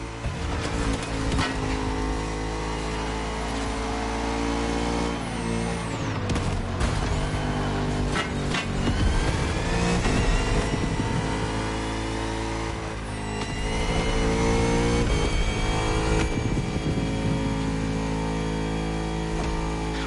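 Bugatti Vision GT engine in the racing game The Crew Motorfest, a loud continuous roar with steady harmonic drone, surging and dipping as it revs through the run, no talk.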